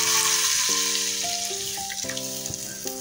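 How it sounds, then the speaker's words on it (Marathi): Water hits a hot pan of oil with asafoetida and red chilli powder for masala Maggi, giving a bright sizzle that fades into steady frying, with faint tonal hum underneath. "त्याच्यानंतर मी 1 ग्लास पाणी टाकणार आहे"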